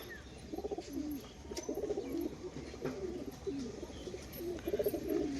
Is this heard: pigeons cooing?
yes